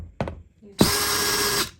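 A cordless power drill backs out the screws of a thermostat wall plate: a short knock, then a sustained close whirr for almost a second.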